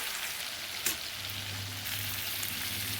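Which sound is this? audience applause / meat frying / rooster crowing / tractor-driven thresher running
meat frying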